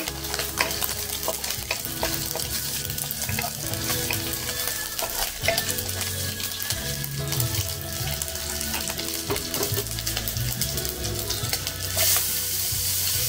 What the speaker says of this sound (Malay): Masukkan bawang putih, ikan bilis, tumis sampai wangi.